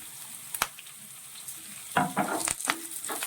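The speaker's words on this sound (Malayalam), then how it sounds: "നമുക്കിതിലേക്ക് നമ്മൾ എടുത്തു വെച്ചിരിക്കുന്ന ചെറുള്ളി ചേർത്ത് കൊടുക്കാം" Small shallots fry in a pan of oil for a fish dish, with a steady close sizzle broken by a few sharp clinks and stirring scrapes toward the end.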